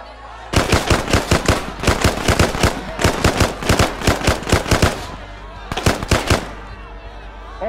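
Rapid automatic gunfire in a military video game, delivered in several long bursts of sharp, loud shots with short pauses between them and a final brief burst after a gap.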